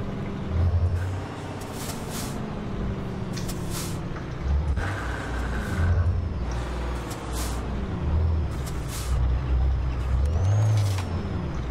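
A Scania 113 truck in Euro Truck Simulator 2 drives with a loud, steady engine drone, while repeated short air-brake hisses break through at intervals.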